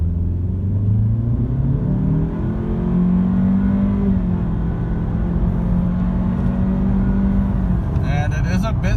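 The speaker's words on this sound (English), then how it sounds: "I'd like to do a brake boost here in sport mode, and we'll see how it goes." A 2018 Honda Civic Hatchback Turbo launches from a brake boost in sport mode and accelerates toward 60 mph, engine drone climbing steadily in pitch with a shift near the end, loud from inside the cabin.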